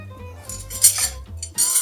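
Metal silverware clinking as a dinner fork, salad fork, knife and spoon are laid on a farmhouse table for fall, with several bright close taps and chinks over a low steady hum.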